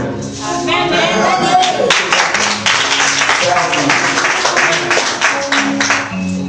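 A church congregation in Côte d'Ivoire claps and applauds over loud, continuous singing and voices, with the clapping blending into the dense sound throughout.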